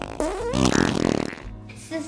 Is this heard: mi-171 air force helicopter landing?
no